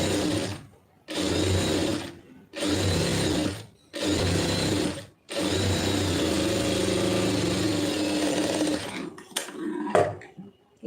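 A sewing machine stitches the lining of a blouse in four steady bursts of motor whirr and needle chatter, then runs a longer stretch before slowing into a few stops and handling clicks.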